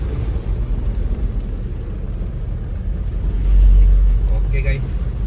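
A Toyota Land Cruiser VX80 on a test drive, with a steady low engine and road rumble that swells louder midway while someone talks over it throughout.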